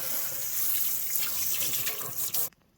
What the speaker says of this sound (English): Then you just rinse it, and you can see most of the stains and stuff are gone now.